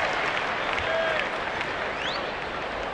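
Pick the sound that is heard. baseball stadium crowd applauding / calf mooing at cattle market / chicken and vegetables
baseball stadium crowd applauding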